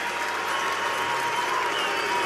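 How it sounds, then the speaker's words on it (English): Baseball crowd of Yankee fans applauding as pitcher Marcus Stroman leaves the game against the San Francisco Giants, a steady dense wash of clapping at a broadcast distance. "you can hear all the Yankee fans here giving him a nice round of applause"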